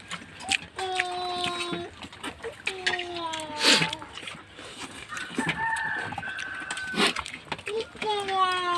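Chickens cluck and a rooster gives drawn-out, tonal calls again and again, close by, amid scattered splashy noises and background voices.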